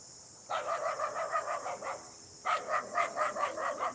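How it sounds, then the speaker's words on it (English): A local dog in rural Minnesota barks in two quick rapid-fire runs, separated by a short pause, at moderate distance outdoors. "I got the local attack dog."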